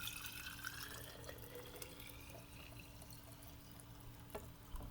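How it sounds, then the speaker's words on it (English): Purple sugar water pours into a glass jar, a steady liquid trickle with faint drips over a low constant hum, no voices. "Now this purple sugar water we're going to pour in our glass jar."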